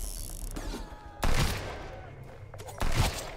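Gunfire crackles in bursts as enemies attack base walls in the survival video game Sunkenland, with two louder, heavier volleys standing out over a rattling background.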